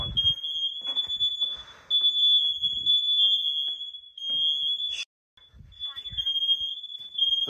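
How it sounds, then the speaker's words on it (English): A shrill, steady tone from a Wheelock smoke alarm system sounds almost nonstop, cutting out briefly once, with people talking and moving around beneath it. "I accidentally set off these smoke alarms"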